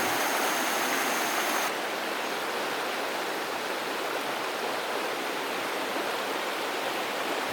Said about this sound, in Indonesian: Sungai mengalir tenang seolah menjawab harapan 6 pemuda ini dapat menikmati sisa perjalanannya